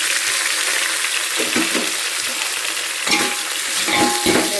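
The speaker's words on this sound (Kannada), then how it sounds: "ಚಕ್ಕೆ ಲವಂಗ ಸಾಸಿವೆ ಜೀರಿಗೆ ಒಣಮೆಣಸಿನ್ಕಾಯಿ ಹಾಕಿ ಇಟ್ಟಿದ್ದೀನಿ ಬೆನೆ ಹಾಕಿ ಹಾಗೆ ಟೊಮೆಟೊ ಕೊಯ್ದು ಇಟ್ಕೊಂಡಿದ್ದೀನಿ ಇದಕ್ಕೆ ಹಾಕ್ಕೊಳ್ತೀನಿ" Loud, continuous sizzling of cinnamon, cloves, mustard seeds, cumin, dry chilli and tomato frying in hot oil, with occasional stirring scrapes against the pan.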